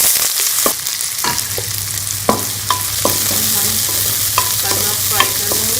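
Onions fry in cooking oil in a kadai, a loud, steady sizzle up close, punctuated by regular clicks and scrapes of stirring.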